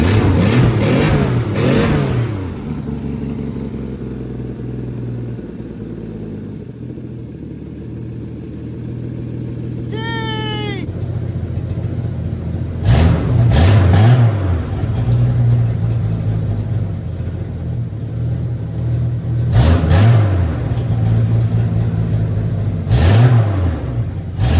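A 1963 Plymouth Valiant with an EFI conversion revs several times after a cold start, a close, steady engine drone rising in repeated surges. A brief high chirp cuts in midway.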